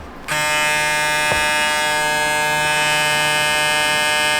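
A JEEZY electric hair clipper switches on with a click and runs at a loud, steady high-pitched buzz, close and continuous.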